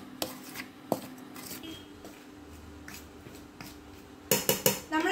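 A spoon clinks and scrapes against a bowl while rice flour, maida, chilli powder, oil and salt are mixed for murukku. The taps are sparse and soft at first, then a quick run of louder knocks comes near the end.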